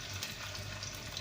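Chicken seekh kebabs frying in hot oil in a pan over low heat, giving a soft, continuous sizzle that is fairly faint and close, with no talking.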